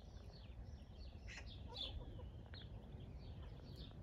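Backyard hens clucking and chattering softly at a moderate distance, with brief bursts of calls over a steady low outdoor rumble and no talking.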